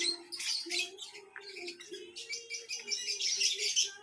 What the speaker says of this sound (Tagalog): Daming ibon, no? Iba-ibang kulay.